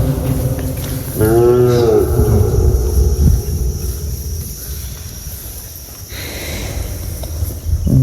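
A cow lets out a long, loud moo nearby, followed by open outdoor ambience with a faint insect hum.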